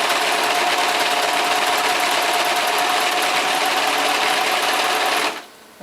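A sewing machine runs a straight stitch down a braided bath mat with the presser foot set light: a fast, steady mechanical whir and chatter continues for about five seconds, then stops abruptly.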